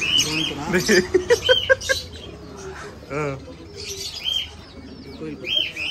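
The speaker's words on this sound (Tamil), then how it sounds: "இது அது கோயில் புறாவா ரேஸ் புறா மாதிரி இருக்குடா" Temple pigeons at a fish market coo and chirp in short bursts, mixed with other bird calls and busy market chatter nearby.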